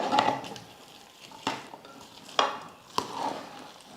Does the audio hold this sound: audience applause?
no